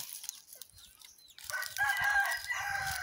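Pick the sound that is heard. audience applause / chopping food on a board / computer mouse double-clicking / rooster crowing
rooster crowing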